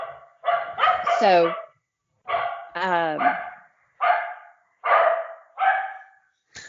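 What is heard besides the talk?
dogs barking at bears on the porch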